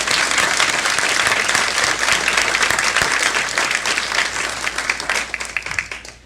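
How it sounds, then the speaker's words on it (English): Audience applause at an annual women's achievement awards event, a sustained round of dense clapping from a room full of people that holds steady and then tapers off at the end. "If everyone gives her a round of applause."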